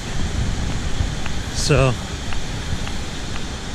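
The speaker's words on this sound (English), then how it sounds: "the waterfall, you can hear it. It is rumbling." A waterfall swollen after heavy rain gives off a steady, broadband rumbling roar that fills the whole clip, with a short spoken word partway through.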